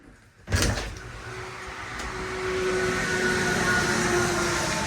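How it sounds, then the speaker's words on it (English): An aluminum door in a house slides along its track, starting with a sharp rattling clack, then a sustained metallic rolling rumble with a faint ringing tone that grows slightly louder and continues to the end. "Got an aluminum door here."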